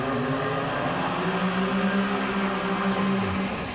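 A turbocharged V6 Grand National drag car from TRZ Motorsports at a drag racing event roars loud and close in a steady, heavy engine drone, its pitch sliding downward near the end.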